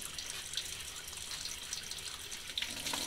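Tap water runs steadily into a sink while a paint brush is rinsed under it, a continuous close hiss with occasional splashy bursts and no talking.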